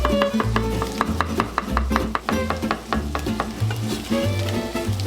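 A flaky pollock fillet sizzles loudly in a hot pan while it is turned over, with scraping clicks from the utensil over the continuous frying.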